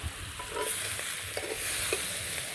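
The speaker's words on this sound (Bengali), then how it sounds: "ভালো করে ভাজতে হবে" Water lily stems fry in a pan with green chili, turmeric, chili powder and salt, giving a steady soft sizzle broken by a few gentle stirring scrapes, with no talking.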